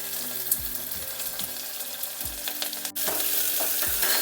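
Onions frying in mustard oil for a potato masala, a continuous crackling sizzle with repeated scraping strokes of a spoon stirring the pan, close and steady.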